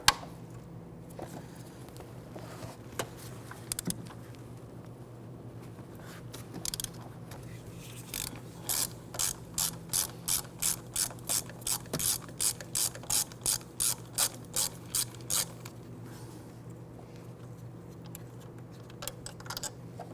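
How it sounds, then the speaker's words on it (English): Sharp, close ratchet clicks come in a rapid, regular run as a 13mm bolt is loosened on the AC compressor of a 1999-2004 Jeep Grand Cherokee 4.7L V8. Scattered single clicks come before and after against a low engine-bay hum. "On the back passenger side of the AC compressor, you're going to find a 13mm bolt here. Loosen and remove that."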